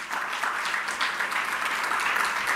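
Church congregation applauding together, a dense, steady wash of many hands clapping at even loudness throughout, with no clear voices rising above it.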